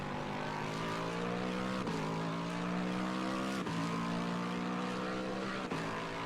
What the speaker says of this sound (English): we can hear the big burp of the Lexus above it